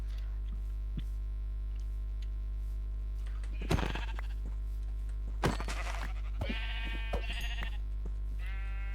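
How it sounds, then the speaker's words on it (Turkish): Sheep bleating in the Minecraft survival world, several short bleats spread across the stretch over a steady low hum, moderately close. "şu an gittiğim yönde bir sürü koyun var"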